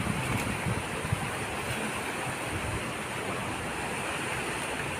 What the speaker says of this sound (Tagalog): So, lakas ng ilog dito.